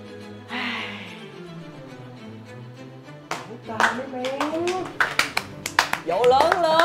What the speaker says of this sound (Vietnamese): Vỗ tay cho sự xuất sắc.